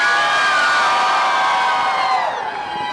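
A big crowd at the Folsom Street Fair screams and cheers at full volume, a sustained roar of shrill whoops and yells that eases slightly near the end.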